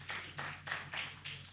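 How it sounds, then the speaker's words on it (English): Applause at an AGM for a professional leadership body, heard as regular bursts of clapping from a seated audience, fairly faint and steady in rhythm. "let's give ourselves a round of applause"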